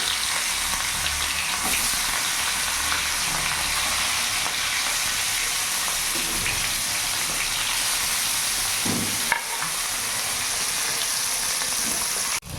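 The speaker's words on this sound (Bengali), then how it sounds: "তেল গরম হয়ে গেছে এবার মাছগুলো দিয়ে দেবো" Katla fish pieces frying in hot mustard oil give a steady, loud, continuous sizzle throughout, with a few faint stirring knocks and no talk.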